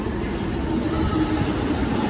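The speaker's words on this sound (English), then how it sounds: "so I'm going to take the train." Steady broadband rumble of a UK train in motion on the way to Stratford, a continuous low roar from inside the carriage with faint wheel hiss and no talking.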